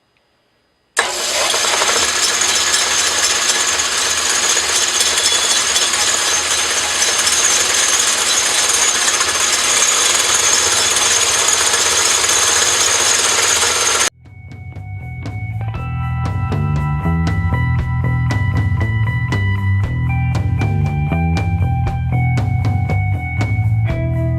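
A metal lathe turns down crankcase cover stock for a radial engine to 1.5 inch diameter, giving a loud steady broadband machining roar with a whining motor hum, then a shift to a lighter rhythmic cutting chatter with tonal ringing.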